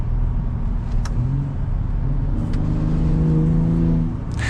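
A Ford Raptor with a V6 EcoBoost engine accelerating with its exhaust valve open: a steady, rising engine drone with climbing harmonic tones as revs build, heard from inside the truck, easing off at the end.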